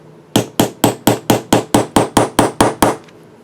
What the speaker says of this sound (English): I get my little hammer and I go toot toot toot